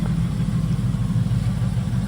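A Triumph Stag's engine idles steadily at close range after a first-try start, giving an even, throbbing low rumble with no change in revs.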